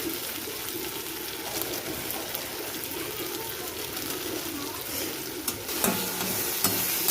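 A spice masala with sauce and garam masala is stirred in a hot pan, making a steady close sizzle with continuous scraping and a few sharper knocks near the end.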